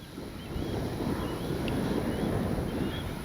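Strong, steady wind buffets the microphone at an RC flying field where a P-47 Thunderbolt model waits, a loud low roar with no one speaking.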